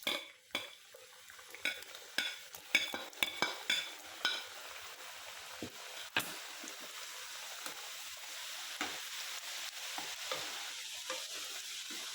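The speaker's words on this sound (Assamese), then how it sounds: "এইবাৰ নেক্সটখিনি মই ভাজিছোঁ" Nimki (namak para) dough pieces deep frying in oil with a soft steady bubbling hiss, opened by a series of sharp metallic scrapes and clinks of a spoon against the pan, then quieter frying alone.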